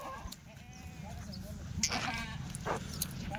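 Goats in a pen on a farm holding about eighty animals, several short bleats scattered over a low steady background, with a dog-like call mixed in and people talking nearby.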